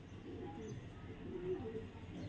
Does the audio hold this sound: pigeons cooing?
yes